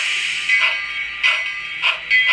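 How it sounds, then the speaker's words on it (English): Bell of a Wilson brass Sn3 model steam engine rings in a high electronic tone, striking about four times at a steady pace, each strike swelling briefly over a continuous ringing hum. "You turn the bell on with number 3."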